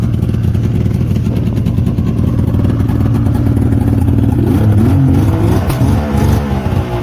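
A 2004 Yamaha SX Venom snowmobile engine runs loud and close with a steady, rough idle, slight revs, and mechanical clatter throughout.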